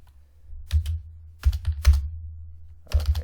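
Keys on a computer keyboard are tapped in a few quick bursts with pauses between, close and fairly quiet.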